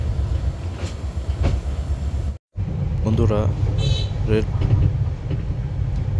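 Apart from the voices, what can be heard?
Torna Nishita Express train leaving Dhaka Airport railway station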